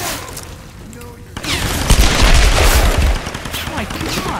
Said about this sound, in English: I shot this dude in his face.